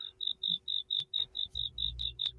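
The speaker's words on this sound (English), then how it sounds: "There are crickets in the room." A cricket chirping effect plays from a soundboard as a steady, evenly spaced series of about a dozen high, buzzy pulses, with faint low rumble and a few clicks beneath.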